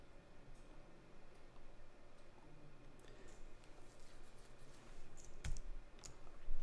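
Faint, sparse clicks from a computer mouse tap out intermittently at close range over a quiet room hiss, with a few sharper single clicks toward the end.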